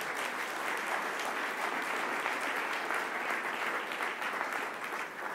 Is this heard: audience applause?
yes